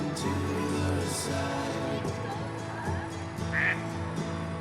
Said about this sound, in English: Two baby ducks.